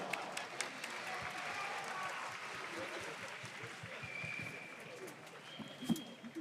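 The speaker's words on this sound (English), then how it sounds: "a round of applause for Colombia." An audience at the Rubik's WCA World Championship 2023 Nations Cup in Incheon claps and cheers in a large hall, a steady wash of applause with scattered louder claps.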